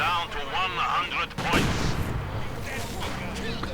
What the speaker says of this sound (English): direct hit on the mortar from the Soviet mortar